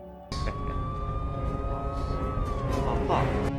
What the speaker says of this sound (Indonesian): mereka dikagetkan dengan sirine mobil polisi yang mendekat ke hanggar tersebut